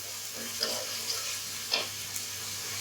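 Bay leaves, cinnamon, cardamom and ginger-garlic paste fry in hot oil for bhuna khichuri, making a steady close sizzle broken by a few light clicks of stirring and no talking.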